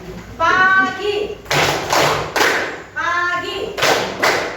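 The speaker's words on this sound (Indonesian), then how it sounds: "Pagi tepuk tangan 3 kali" Children clap their hands in short group bursts during a morning-noon-evening classroom counting game, with a voice calling out between the rounds of claps.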